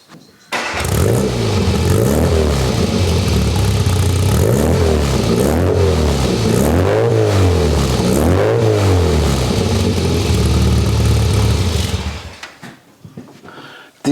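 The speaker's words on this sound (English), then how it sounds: "I'm going to start it up now, and keep in mind the engine is still cold" A Classic Mini's cold engine cranks, catches and runs loud and close with rising and falling revs before settling, then cuts off near the end.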